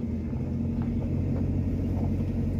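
A car on a test drive with D2 laser headlamps fitted, its steady low engine and road rumble continuing evenly throughout, moderately loud with no voices.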